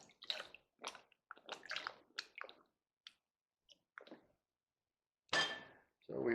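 Scrap metal pieces rinsed in water after electrolysis, giving a series of short splashing, squishing and clinking bursts with gaps between them, then a louder wet rush near the end.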